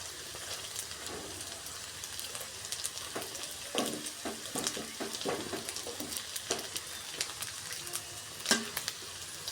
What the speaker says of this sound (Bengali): কিন্তু অবশ্যই কম আঁচেই ভাজতে হবে, তাহলেই ফুলবে।